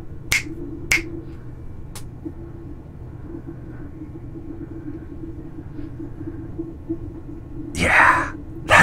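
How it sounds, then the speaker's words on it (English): Three crisp finger snaps ring out close by over a low steady hum from a Creality CR-10S Pro 3D printer, followed later by a brief rustle. "Here's a finger snap for comparison."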